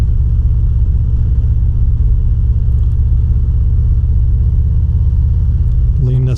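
A 2025 Harley-Davidson Fat Boy's engine rumbles steadily and loudly throughout a highway demo ride, a deep continuous low drone with road and wind noise, rising briefly near the end.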